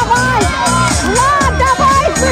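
Spectators at an ice swimming world championship final in Murmansk cheer and shout as a loud, continuous crowd, with a commentator's voice running over the noise throughout.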